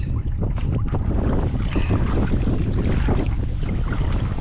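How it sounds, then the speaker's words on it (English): Strong, steady headwind buffets the microphone of a cyclist riding toward a dam, a continuous loud low roar of wind noise with no voice over it. "This headwind has picked up a whole lot."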